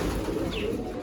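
Pigeons at a Giribaz loft during morning feeding make a brief, dense low cooing murmur, close and steady, with a faint chirp rising above it.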